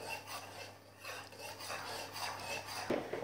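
A spoon stirs and scrapes in a pot of vegetable broth, dissolving three quarters of a stock cube, with steady rasping and clinking and a sharper knock near the end, fairly close and without talk.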